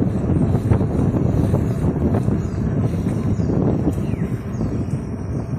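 Steady, heavy wind roar buffets the microphone throughout, a constant low rumble while riding a FIIDO M1 Pro e-bike at speed on a bypass road outdoors.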